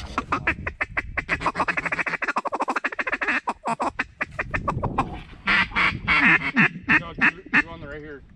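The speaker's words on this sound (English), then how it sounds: "Big raft of teal" A large flock of teal ducks on a marsh quacking in rapid, overlapping bursts, followed by louder nearby calls mixed with a person's voice.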